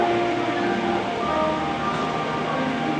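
Model railway train running at a train model exhibition, a steady continuous rolling rumble with faint tonal squeals, close and even throughout with no talk.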